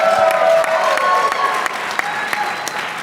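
A large crowd at a patriotic America 250 kickoff rally applauds loudly and steadily, dense clapping with some cheering mixed in, close and sustained for a few seconds.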